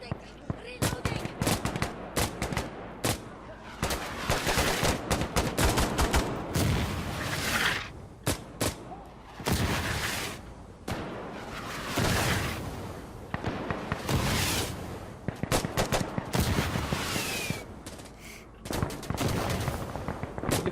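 Mortar fire and heavy gunfire fill a match of the video game Insurgency Sandstorm, loud repeated booms and bursts of shots arriving in dense clusters with short gaps between them, with occasional voices underneath.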